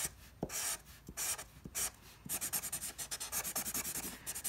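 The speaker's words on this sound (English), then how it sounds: "I like the chisel tip markers for this because they draw your straight edges pretty well." Chisel tip marker drawing straight edges on paper for tunnel op art, a series of close, scratchy rubbing strokes, a few separated ones first, then a quicker run of short back-and-forth strokes.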